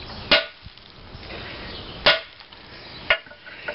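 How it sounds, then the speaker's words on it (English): A small hammer lightly taps the stuck piston of a 1918 IHC engine, three sharp metallic knocks spaced unevenly over a few seconds, close and distinct against a quiet workshop background. "We give it a light tap."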